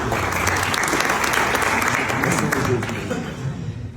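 Audience applause at a national One Health days academic event held at Ankara University: dense, sustained crowd clapping that stays loud and steady for about four seconds before easing slightly at the end.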